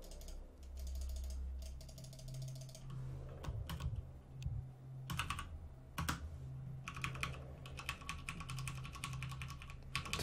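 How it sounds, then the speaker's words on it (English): Rapid clicky typing on a mechanical computer keyboard during a Warcraft 3 match, with dense bursts of keystrokes and brief pauses, close and clear over a low background hum. "Yeah, it's a mechanical keyboard."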